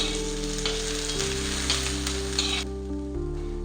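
Garlic and ginger frying in a pan for paneer masala, a steady loud sizzle close by with a low steady hum underneath and no talking.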